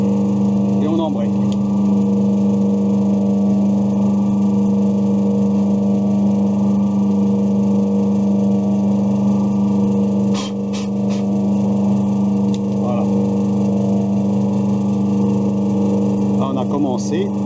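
A metal lathe runs while cutting an internal thread into a blind hole: a steady, close motor hum with a strong low drone and overtones, broken by a few faint metallic ticks.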